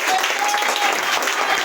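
A church congregation applauds and cheers together in a dense, continuous burst of clapping that fills the room throughout.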